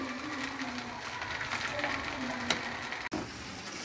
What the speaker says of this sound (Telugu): మామిడికాయ తురుముని పచ్చి స్మెల్ పోయే వరకు వేయించుకోవాలి